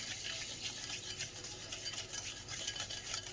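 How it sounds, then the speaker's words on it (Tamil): Oil and sugar being stirred together in a bowl for butterscotch cake batter, a steady scraping, swishing mix with faint utensil clicks, close and continuous with no talking. "பட்டர்ஸ்காட்ச் கேக்கு ஆயிலும் சுகரும் போட்டு சுகர் மெல்ட் ஆகிற வரைக்கும் நல்லா மிக்ஸ் பண்ணிக்க போகிறோம்."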